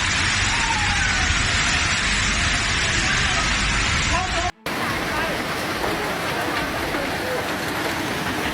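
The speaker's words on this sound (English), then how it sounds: "After a short but violent storm with heavy hail," Dense roaring wash of heavy hail pounding surfaces during a short, violent storm, loud and unbroken, cut by a brief gap before the downpour continues.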